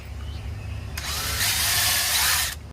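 Power drill driving a screw into wood for a bar half wall, one steady whirring burst of about a second and a half, close and loud after a quiet start, with no talk.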